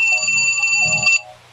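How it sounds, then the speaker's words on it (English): An alarm rings in a room during a podcast recording, a bright, steady electronic tone with a rapid pulsing pattern, loud and close, lasting about a second before cutting off. "that was the alarm saying we're out of Pants Free podcast time"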